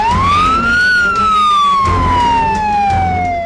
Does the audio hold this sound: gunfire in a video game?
no